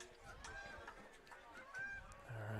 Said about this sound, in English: And the geese are coming in.